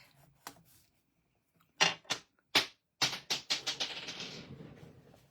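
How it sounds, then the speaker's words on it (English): A score blade scoring card stock for a handmade card, making a run of sharp clicking strokes, several spaced apart and then quickening into a rapid series of clatters that trail off, close and alone. "I'm going to score it, but I want to score the other side."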